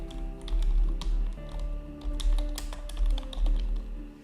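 Keys on a computer keyboard are tapped in quick irregular bursts, crisp clicks close by over a low background hum, with no voices.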